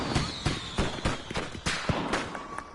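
Fire spell Incendio cast repeatedly in Hogwarts Legacy: a string of sharp crackling bursts and thumps, fairly loud and close, popping like small firecrackers over a busy game soundscape.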